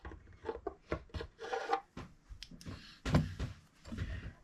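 Sandpaper rasps back and forth over a crack in the top of a Gilchrist mandolin, a series of short, close scratching strokes in an irregular rhythm with no talk.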